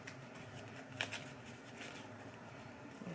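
Tarot cards are shuffled in a quiet room, giving a soft, continuous papery riffling and patter close by with a few slightly sharper flicks.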